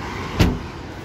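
A Chevrolet Cobalt's trunk pops open through a remote-start alarm system: one brief, close thump stands alone against a quiet background.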